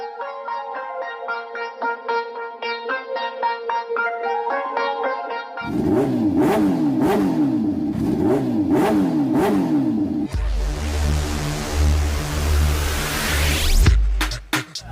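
A motorbike engine revs hard in repeated rising bursts, loud and close, shifting into a deep steady rumble near the end.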